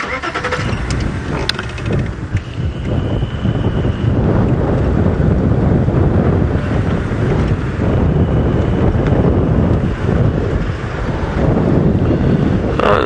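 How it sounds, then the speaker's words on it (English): Chilly morning wind on a safari drive buffets the microphone in loud, continuous rumbling gusts that fill the whole stretch, with vehicle noise beneath and no voices. "Still a chilly wind in the air."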